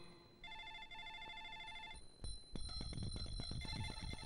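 An electronic telephone ring repeats in short bursts as a bright warbling tone, then cuts off at a sharp knock and gives way to busier, noisier sound while the ringing tone continues faintly.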